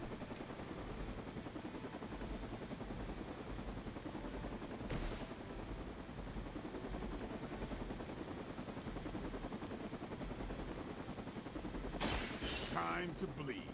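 A helicopter in the video game Marvel's Midnight Suns throbs steadily throughout, a continuous rotor drone with brief bursts of gunfire near the middle and end.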